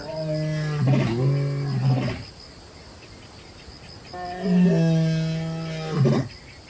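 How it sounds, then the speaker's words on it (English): Two long, deep roars from a male lion, each swelling and then breaking into grunting at the end, with a pause between them. Insects buzz faintly throughout. "the roar of the male lion echoes across the savannah"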